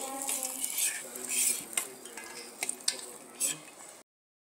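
A metal spoon stirs tamarind pulihora rice in a pot, close-up scraping and clinking of utensil against the pan in uneven strokes, with faint background sound and a few sharper knocks.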